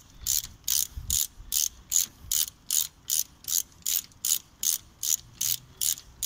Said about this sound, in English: we'll start off by undoing the two caliper bolts from the caliper bridge, of which you'll need a 7mm Allen key